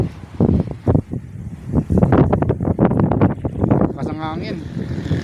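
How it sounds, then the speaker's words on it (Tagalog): Strong wind buffets the microphone outdoors at Clark, Pampanga, a rough rumbling roar under steady close-up talking, with a brief whistling tone near the end. "Lakas ng hangin"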